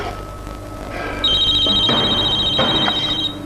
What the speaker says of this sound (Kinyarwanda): Telefone ko yagahamagaye.